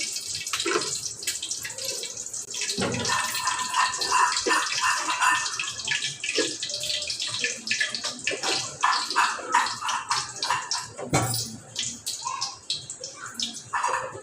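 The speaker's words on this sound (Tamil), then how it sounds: "கொஞ்சம் கடுகு பொரிஞ்சிருச்சு." Mustard seeds and cumin crackle and sizzle in a pan of hot oil, a dense, close stream of popping bursts that rises and falls, with a voice faintly present at times.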